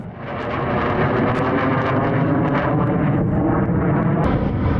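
Roaring fighter jet engine during aerobatic display flying, a loud, continuous broadband rumble that stays steady and close throughout with no voices.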